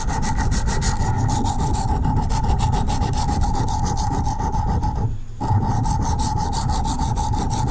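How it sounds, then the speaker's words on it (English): A putty knife is worked back and forth on a sharpening stone, making a steady close scraping rasp in quick regular strokes with a brief pause near the end. "I'm going to run that on my sharpening stone"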